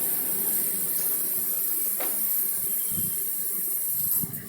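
Steady, close sizzling hiss of salted tomatoes sautéing in a pan, with occasional soft scraping clatter, and no voices throughout.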